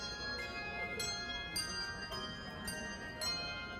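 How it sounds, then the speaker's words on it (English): Bells ring out Christmas music outdoors at a city holiday festival: a melodic run of sustained, shimmering tones with struck onsets roughly every second, heard clearly over faint crowd ambience. "they have people playing Christmas music with bells"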